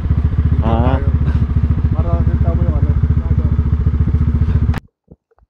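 Motorcycle engine running loud and close on a road on Polillo island in Quezon, a steady rumbling chug that cuts off abruptly near the end, with people talking over it.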